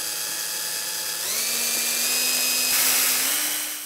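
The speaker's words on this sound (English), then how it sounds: "I've now got to drill a hole in precisely the right position in order to extricate that" A whining drill bores a hole into a keyboard cabinet panel, its steady high motor tone rising in pitch as it spins up, close and continuous.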